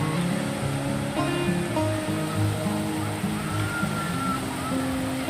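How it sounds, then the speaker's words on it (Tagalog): Rough sea waves wash in a steady, broad roar at a beach with boats offshore, continuous and moderately loud, with indistinct voices and children playing faintly in the background. "Medyo maalon yung dagat."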